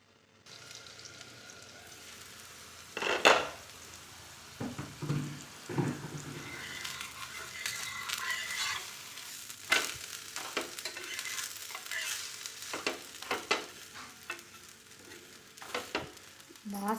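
Bottle gourd roti fries in oil on a pan with a soft, low sizzle, broken by scattered clinks and handling knocks.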